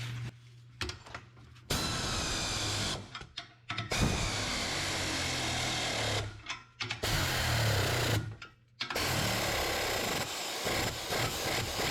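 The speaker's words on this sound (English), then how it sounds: "I'm going to take my handy dandy air ratchet, and this baby will go up to about 55 foot-pounds" Air ratchet tightening U-bolts on a camper trailer's 2-inch lift kit, with long stretches of loud buzzing rattle broken by short pauses, close and dominant.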